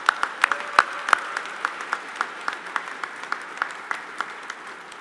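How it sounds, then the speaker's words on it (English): Scattered audience clapping at a benefit event, individual claps popping out distinctly over a thin, steady patter that carries on without voices. "So please give them a round of applause."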